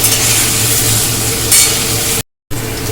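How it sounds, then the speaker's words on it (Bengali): Long-cut potatoes, soaked in water beforehand, sizzle and crackle steadily in hot oil with occasional stirring, loud and close before a brief cut to silence. "এই আলুগুলো কিন্তু এই তেলেতেই আমি ভেজে নেব"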